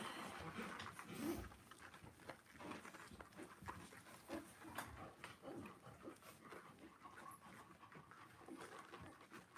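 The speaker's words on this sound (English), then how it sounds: "it makes you pant when they nurse, huh?" A nursing labradoodle mother dog pants steadily and rapidly up close, with soft breathy rhythmic huffs and an occasional faint whimper, no talking.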